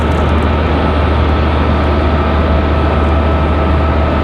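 A JetBlue airliner from Boston landing at Raleigh-Durham International, its engines a loud, constant, heavy roar with deep rumble that fills the scene without letting up and has no voices over it.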